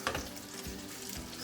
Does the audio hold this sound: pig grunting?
no